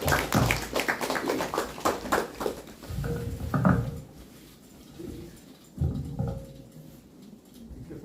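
An audience at a talk session claps, giving a dense patter of many hands up close that thins and fades, followed by a few scattered later claps.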